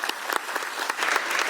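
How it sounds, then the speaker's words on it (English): An audience at a Religious Liberty Commission hearing breaks into dense, steady applause, many hands clapping at once, close and continuous. "Please give her a round of applause."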